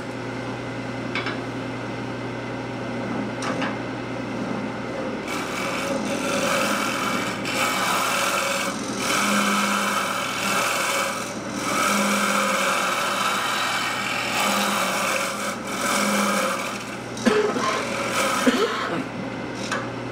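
A scraper cuts wood on a lathe while a teapot is turned, with push and pull cuts made slightly below center. The steady whirring and scraping runs unbroken, with a constant low hum underneath and several louder bursts.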